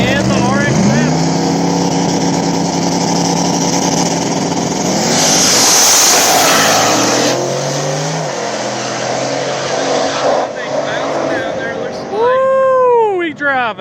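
Small-tire drag race cars, a Malibu and a Mazda RX-7, roar loudly off the line and rev hard together, with rising engine tones sweeping through the run while a commentator talks over the racket.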